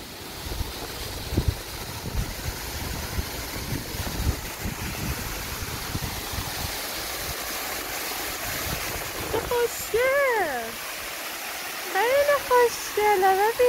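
Wentworth Falls in the Blue Mountains, with water pouring and splashing as a steady broadband rush throughout, while voices talk over it toward the end.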